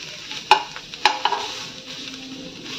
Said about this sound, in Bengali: grill sausage